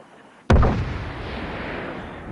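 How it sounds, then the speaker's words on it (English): A single heavy mortar launch in the Gen Zero video game: one sharp, loud boom followed by a long rumbling tail that fills the rest of the moment. "launching these things as mortars while your friends try to keep them in one spot"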